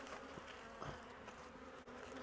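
Honeybees being shaken out of a hive into a box, giving a steady, close buzzing hum with a few louder swells.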